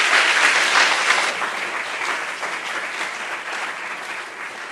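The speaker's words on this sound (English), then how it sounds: "one more round of applause for Stefano and all the other teams from tod" Conference audience applauding after presentations, a dense steady wash of many hands clapping that stays loud throughout and fades slightly toward the end, with no voices heard.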